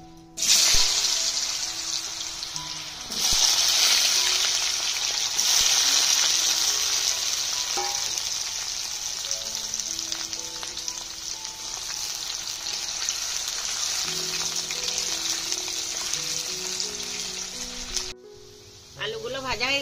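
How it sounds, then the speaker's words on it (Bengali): Potatoes fry in hot white oil in a wok for a home-style vegetable shukto, a loud steady sizzle interrupted briefly near the start and again at the end, with clinks and faint tap-like water noise. "তেল গরম হয়েছে, এবার আলু কটা আগে ভেজে নেবো।"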